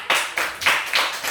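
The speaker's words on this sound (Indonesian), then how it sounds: "Tepuk tangan buat kelompok 1." Five crisp hand claps in a classroom for a student group, evenly spaced and fairly close, each sharp burst fading quickly, with no talking over them.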